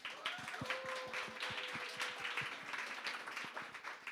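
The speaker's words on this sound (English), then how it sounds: "Keep clapping it up till they exit off stage." An audience at a professional upskilling talk event applauds as the speakers leave the stage, a moderate, steady patter of scattered hand claps with a faint tone running underneath.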